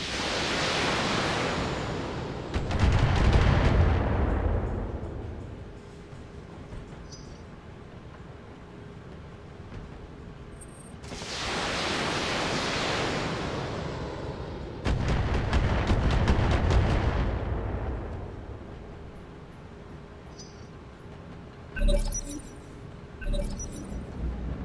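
A mech unloads a full weapons salvo in the video game Battletech, heard as two long, loud roaring bursts of missile and cannon fire, each rumbling and fading over several seconds, with sharper crackling impacts near the end.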